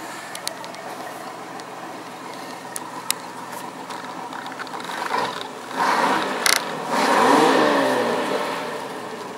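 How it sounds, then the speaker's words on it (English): The engine of a 2007 Monterey 180FS bowrider idles in neutral and is revved twice, each rev swelling and then sinking back, close and moderately loud, with a few sharp mechanical clicks early on. "just doing some neutral revs right there."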